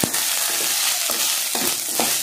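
A steady hissing sizzle of chopped green chillies frying in a pan for masala sundal, with a few soft clinks and stirring scrapes breaking through.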